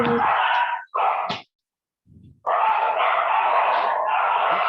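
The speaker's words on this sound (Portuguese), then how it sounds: "Tem uns cachorros latindo aí." Dog barks, a couple of short bursts followed by a longer run of loud barking close to the microphone.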